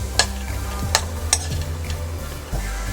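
Dry fruits frying in hot ghee for Ganesh Chaturthi kheer, a steady close sizzle broken by a few sharp spoon scrapes and stirring knocks, with a low background hum throughout.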